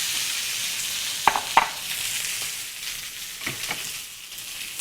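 Cut okra fries in hot oil, a soft, steady sizzle with a couple of sharp clinks near the start and a few lighter knocks later, likely from a utensil against the pan, all without speech.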